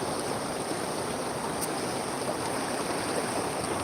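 Swollen floodwater after a cloudburst rushes past in a river running full, a dense, unbroken roar of flowing water heard loud and near with no voices.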